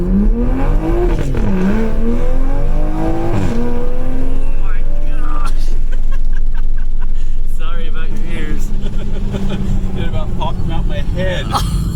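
Engine of a 2020 Toyota Supra fitted with a downpipe, accelerating hard with traction control off: loud revving through rising gears with shift dips, heard from inside the car, with voices over it.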